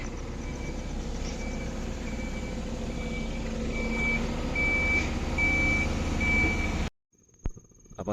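A truck reverses, its backup alarm beeping in an even, repeating rhythm over a steady engine drone, before the sound cuts off abruptly into near quiet with a few faint knocks.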